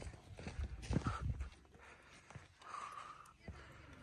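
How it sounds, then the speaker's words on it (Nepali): A horse walks with soft hoof clip-clops on a Himalayan trail around Shailung, fairly quiet and mixed with outdoor ambience, and a faint whinny-like tone may be heard. "यो घोडा चाहिँ अलिक एक्टिभ रहेछ"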